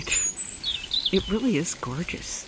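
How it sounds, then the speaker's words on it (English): Faint high bird chirps and song drift in the background while a person speaks over them outdoors. "You can hear the birds singing."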